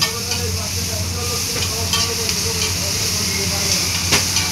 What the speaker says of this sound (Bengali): ও বন্ধুর এখানে চিকেন ফ্রাই হচ্ছে।